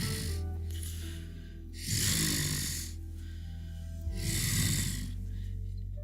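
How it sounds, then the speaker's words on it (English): Heavy, raspy breathing close up, two long noisy breaths with a snoring quality, separated by quieter pauses over a low hum. "you can just hear the heavy breathing."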